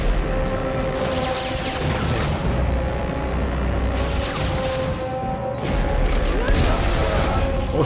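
Repeated booming blasts and crashing bursts from explosions in the video game Dead Space 3 come in waves, with a steady hum underneath and voices mixed in.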